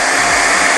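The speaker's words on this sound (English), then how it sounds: "Now I'm going to show you what happens when I use my favorite tool, which is of course the hairdryer." A hairdryer blows hot air onto colour-changing heat-reactive paint, giving a loud, continuous close-up roar of fan and rushing air with no pauses.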